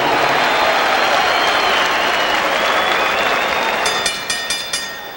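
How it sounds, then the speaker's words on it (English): A boxing arena crowd applauds in a dense, loud wash of clapping that thins toward the end into a few separate claps. "a round of applause"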